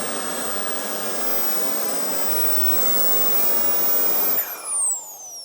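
A Kingtech K45G4 model jet turbine on a bench gives a loud, steady roar with a high whine throughout, then cuts off abruptly near the end as the whine drops in pitch and spools down.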